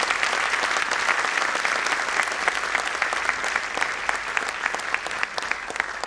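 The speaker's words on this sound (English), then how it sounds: "Let us welcome her with a loud round of applause." A school audience gives steady applause at an annual event, welcoming a guest speaker, a journalist and children's author; dense, even clapping from many hands continues throughout without speech.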